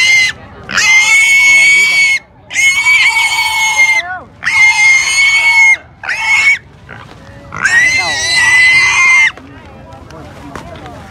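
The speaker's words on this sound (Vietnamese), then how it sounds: "Đấy, đây những con lợn này các bạn ạ" Pigs for sale at a Hmong market in northwest Vietnam squeal loudly in five long bursts, close by, with brief gaps between the shrill cries.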